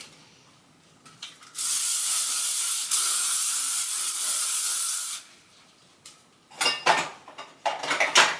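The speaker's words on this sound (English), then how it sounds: "And then I'm gonna go in with my favorite all-time hairspray." Hairspray sprayed onto hair in one long steady hiss of about three and a half seconds, close and loud, followed by a few shorter handling noises and light rustles with no talking.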